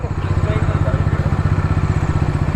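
A black Bajaj Dominar 250 motorcycle idles close by, its engine thumping in a steady, rapid pulse with a deep, throbbing exhaust note throughout.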